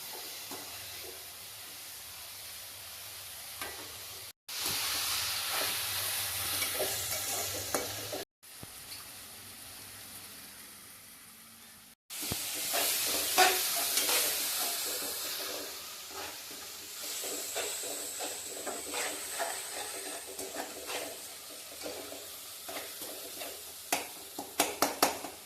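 Curry leaves and tomato for a Tamil prawn and kadamba thokku fry in a pan, giving a steady close sizzle and hiss, broken by short cuts, with scraping stirs and crackles that grow busier toward the end, and no talking.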